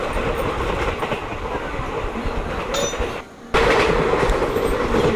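A Vande Bharat train racing along at about 130 km/h in a train simulator game, with a continuous rumbling clickety-clack of wheels on rail, a brief drop in loudness midway, then a sudden return to full roar.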